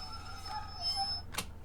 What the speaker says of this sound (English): I love the squeal of the brakes.